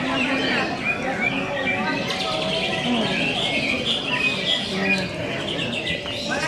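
Many caged songbirds sing at once at a bird-song contest, a dense overlapping chorus of chirps, trills and whistles, close and loud, with people's voices murmuring faintly underneath.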